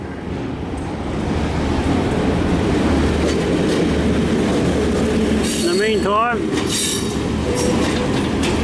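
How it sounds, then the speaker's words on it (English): A train emerges from a tunnel at Lyttelton with a loud, continuous rumble of wheels on rail and a brief rising wheel squeal partway through, while people talk over it. "look down here and here's a train coming out"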